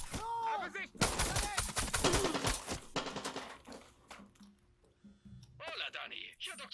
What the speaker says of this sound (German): Sind das Schüsse? Ja, ja, allerdings.